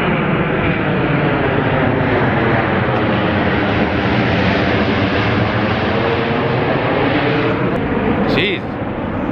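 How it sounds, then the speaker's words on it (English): A loud, steady roar of a jet airplane landing close by, filling the whole clip with a broad rumbling wash that eases slightly near the end. "It's a plane landing not too far from here"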